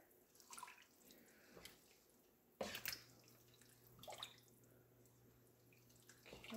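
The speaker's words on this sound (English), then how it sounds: "stir this a little bit more" Quiet, intermittent liquid sloshing and a few soft clinks, like a spoon stirring lentil soup in a pot, with one sharper splash midway.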